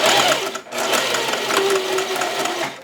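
A sewing machine backstitches a zipper on a curved seam, running in a steady close mechanical whir with a brief pause early on, no talk.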